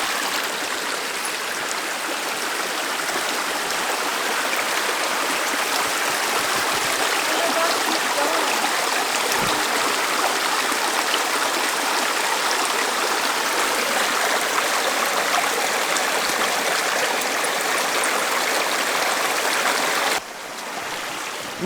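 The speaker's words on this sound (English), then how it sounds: "Hear a waterfall." A mountain stream and waterfall along Colorado's Rainbow Lake Trail rush steadily for a long stretch, a continuous broad roar of running water at moderate distance that shifts slightly near the end.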